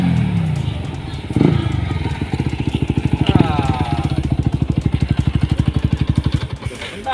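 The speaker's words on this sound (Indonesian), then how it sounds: "Suara bising ya? Suara motor itu." A loud, rattling motorcycle engine close by on a quiet road, a steady rapid putter with a brief rev, while people talk over it.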